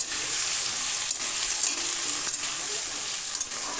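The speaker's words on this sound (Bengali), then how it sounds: "ওলের ডাঁটাগুলো কড়াইতে দিয়ে দিলাম। দিয়ে সামান্য লবণ ও সামান্য হলুদ দিয়ে ভালো করে নেড়ে চেড়ে নিলাম।" Arum stalks with a pinch of salt and turmeric fry in a wok, giving a steady close sizzle broken by scraping stirs and a few spatula knocks, with no voices.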